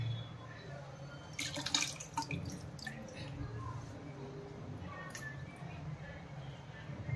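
Fenugreek leaves are swished and rinsed in a basin of water in a home kitchen, giving steady low sloshing with scattered drips and splashes throughout, fairly quiet and close.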